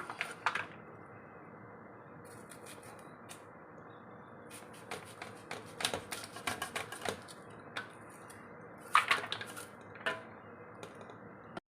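A knife quickly chopping onions on a board makes quiet, irregular taps in short bursts, some quick runs of cuts clustered in the middle and toward the end, over a soft background hush.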